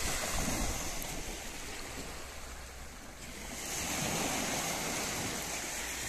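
Waves washing on a seashore in Adana, where the sea has pulled back several metres after an earthquake: a continuous rushing surf with wind noise that dips briefly mid-way, then swells again, with no voices.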